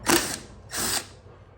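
A ratchet with a 17mm socket works on the clutch basket of a KTM 65 dirt bike, two short bursts of rapid clicking close to the mic, then quiet.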